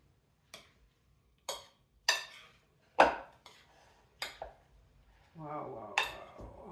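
Avocado and tomato salad being mixed in a bowl, with a handful of separate clinks and scrapes of utensil against dish spaced about a second apart, close and fairly quiet, ending in a brief softer rustle.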